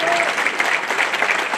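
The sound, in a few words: audience applause for the Alpini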